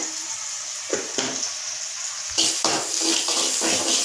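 Eggs frying in a pan for fried rice, with a steady close sizzle broken by several scraping stirs of a spatula through the food, no voices.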